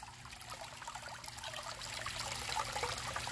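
A very small pond pump recirculates water through a homemade gutter sluice, giving a steady, close trickle and splash that grows slightly louder toward the end.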